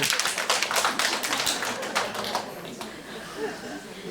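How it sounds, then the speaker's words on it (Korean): Scattered clapping from a lecture audience at a temple special talk, a burst of hand claps for the first few seconds that thins out and fades, with faint voices in the background. "박수 한번 치세요."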